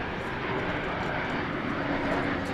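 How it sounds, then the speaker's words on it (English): Airliner at Dallas/Fort Worth International Airport, a steady broadband jet roar holding at an even, moderately loud level throughout without any clear rise or fade. "American Flight 384 is landing there from San Diego, California."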